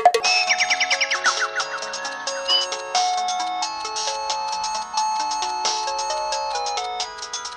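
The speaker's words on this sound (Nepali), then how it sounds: "होइन फोन आइरहेछ" A melodic phone ringtone plays a bright chiming tune for several seconds, steady and fairly loud with no talking over it.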